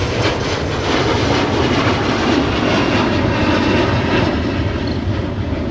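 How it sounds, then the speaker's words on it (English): An Embraer E175 jet airliner roars loudly and continuously at Minneapolis–Saint Paul airport, a broad, close engine rumble with a steady hiss over the whole stretch. "I'm not going to speak over that Embraer E175"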